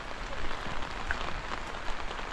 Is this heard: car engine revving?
no